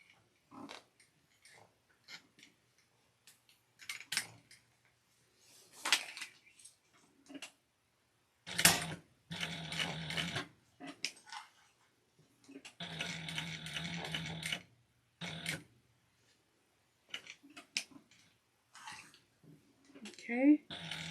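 A sewing machine backstitches through a thick backpack strap in short stitching bursts with pauses between them, fairly close and moderately loud. Handling noises and light clicks fill the gaps.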